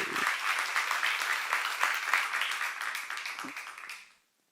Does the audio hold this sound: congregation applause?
yes